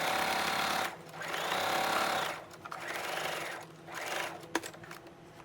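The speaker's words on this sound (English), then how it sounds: "then rotate the fabric, presser foot back down, and continue sewing." A sewing machine stitches fabric on an apron upcycled from a denim skirt and flannel shirt, running in three fast whirring bursts with short pauses between as the fabric is turned, close and loud.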